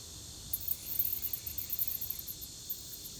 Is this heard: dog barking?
no